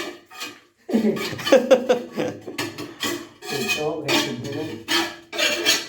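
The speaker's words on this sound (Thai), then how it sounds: "เดี๋ยวขูดหาเลข" Scraping on a surface to uncover numbers at a home renovation job, a rasping, rubbing sound in bursts with brief pauses, up close, with voices and some laughter partly mixed in.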